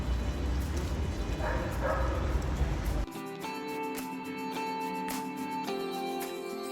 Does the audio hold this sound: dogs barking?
yes